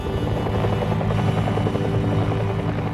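A Bell UH-1 Huey helicopter in flight, its rotor thudding in a steady rapid chop over a loud continuous engine drone, close and strong throughout.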